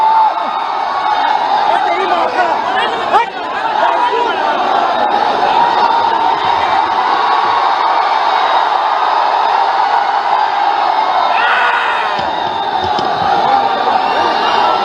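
A large crowd at an outdoor political rally cheers and claps in a continuous loud roar, with shouts and whoops rising throughout and a brief sharp burst near the middle.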